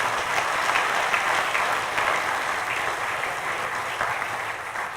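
Audience applause during the opening of a sustainable infrastructure symposium in South Africa: a steady wash of clapping from a large hall crowd, moderately loud and even throughout with no talk over it.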